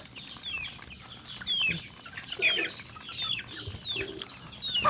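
Gamefowl chickens of Thunderbird breeding stock cluck and chirp in a farm pen, several birds calling irregularly at moderate distance over a low outdoor background.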